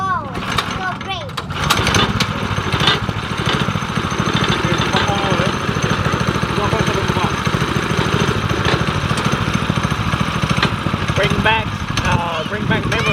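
Small 212cc Predator engine go-kart running throughout, a steady loud buzzing engine drone close by, with people talking and calling out over it.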